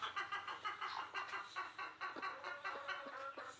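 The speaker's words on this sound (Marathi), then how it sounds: "त्याला इथे कोंबडी बसली हिचा काय विषय बघू अंडे दिलं काय" Hen sitting on eggs in a village coop, giving a continuous run of soft, rapid clucks and low grumbling murmurs, close by and fairly quiet, with no talking.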